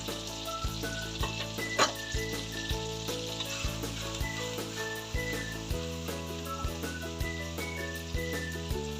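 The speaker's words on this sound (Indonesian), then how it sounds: "Kita tumis bumbu halus sampai harum. Jangan lupa masukkan juga salam dan serainya." A ground spice paste with bay leaf and lemongrass sautés in a wok with a soft, steady sizzle under tonal background music that has a regular beat.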